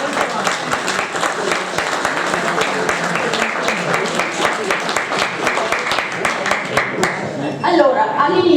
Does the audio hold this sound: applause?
yes